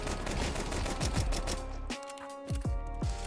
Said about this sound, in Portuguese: os tiros da Glock manteve